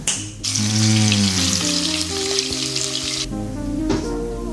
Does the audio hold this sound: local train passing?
no